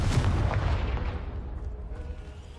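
Confringo blast spell going off in Hogwarts Legacy to clear a pile blocking a stairwell, a loud booming explosion with deep rumbling low end that starts hard and rolls off over a couple of seconds.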